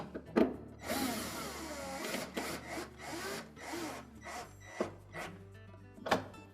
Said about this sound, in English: if you're using a cordless screwdriver like we are, make sure that you don't over tighten those screws